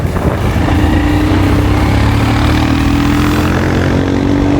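A Bajaj Dominar 400 motorcycle engine runs loud and steady close by, holding a sustained low drone with rising harmonic tones, no talk over it.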